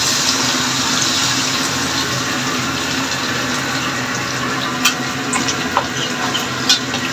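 Water splashing and running steadily while a blender jar is rinsed in a home kitchen, a continuous hiss with a few faint clinks near the end, fairly close and alone without talk.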